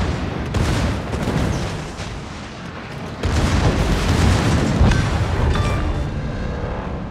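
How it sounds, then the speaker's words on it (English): A World of Warships naval battle with an enemy destroyer exploding: heavy booms and rolling artillery-like blasts, loud and sustained, with a big surge midway. "Enemy destroyer blown up."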